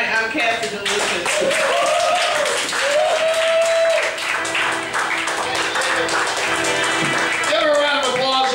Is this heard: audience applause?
yes